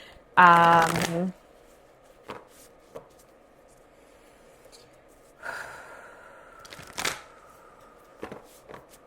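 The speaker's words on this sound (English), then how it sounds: "I want to pull one last card for you, Leo" A deck of Archetypes oracle cards is shuffled in one short, loud riffle near the start. Soft scattered rustles and handling noises follow over a quiet background.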